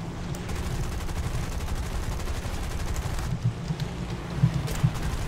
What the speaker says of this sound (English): We're getting shot at from behind